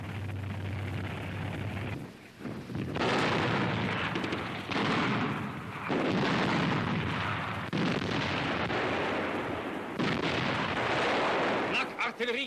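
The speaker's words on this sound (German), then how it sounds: "Artillerie greift in die Panzerschlacht ein." Artillery fire during a WWII tank battle, captured as newsreel sound: a loud, dense barrage of booms and blasts that starts after a quieter opening and continues almost without pause for about nine seconds.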